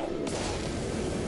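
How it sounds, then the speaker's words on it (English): M60 machine gun fire in Magicka, a continuous loud rattling stream of shots that fills the whole moment after a sharp onset, with no talk over it. "Opsy's trying out his M60."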